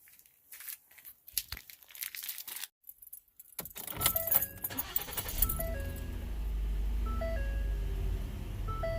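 Keys jangle and rattle, then a 2014 Ford Explorer engine cranks and starts, settling into a steady low idle while chime tones sound repeatedly from the cabin.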